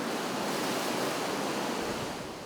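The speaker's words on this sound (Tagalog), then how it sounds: "Sa loob ng kuweba, lalong dumadagundong ang mga alon." Sea waves surge and rumble inside a cave on Calayan Island, a dense, steady roar of surf echoing close and loud with no break and no voices.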